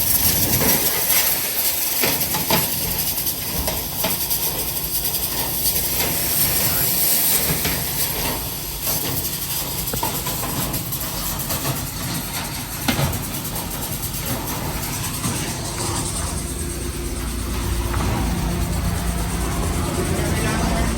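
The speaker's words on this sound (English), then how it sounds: "We got the good vacuum and we're whipping this out." A negative-air duct cleaning vacuum runs as a steady, loud broadband roar with a hissing rush throughout, while someone talks over it at times.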